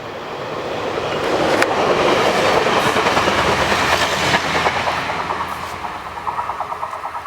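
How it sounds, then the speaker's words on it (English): A train rumbles past nearby with steady rhythmic clacking of wheels over rail joints, swelling loud then fading slightly as it moves on. "So here comes the train"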